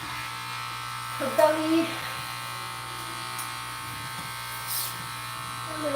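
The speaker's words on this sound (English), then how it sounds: "let's give her a second shave" Electric clippers hum steadily in the background while a dog is shaved during grooming, faint and continuous, with someone talking over them.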